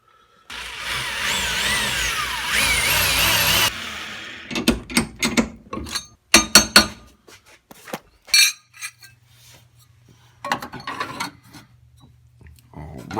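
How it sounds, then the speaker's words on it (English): A power drill bores through the fender of a fourth-generation F-body Camaro after center punching, opening with a loud, steady whining burst of about three seconds, then choppy bursts of drilling and clattering metal-handling noises with pauses between. "and next I'm drilling."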